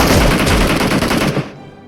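Rapid automatic gunfire in a competitive esports shooter during a Fox Hunt match, a loud, dense burst of repeated shots that cuts off sharply near the end.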